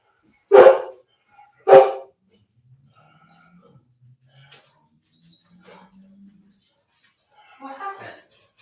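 Dogs bark in two loud, sharp bursts close by, followed by quieter yips and scattered indoor sounds, with a person talking faintly near the end.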